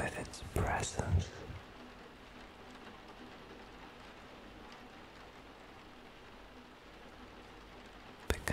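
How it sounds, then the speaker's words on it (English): Steady rain falls in a soft, even wash throughout, with a few brief louder rustles near the start and a faint whisper-like sound at the very end. "you are not just hearing rain."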